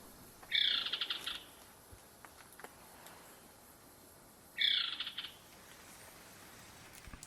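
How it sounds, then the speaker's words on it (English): A southern emerald toucanet calls from a humid forest canopy in Colombia, two separate bursts of harsh, rapid croaking notes a few seconds apart, fairly clear over a quiet, hissing background. "Another bird we spotted high in the canopy was this southern emerald toucanet."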